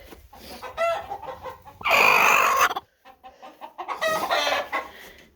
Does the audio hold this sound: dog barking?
no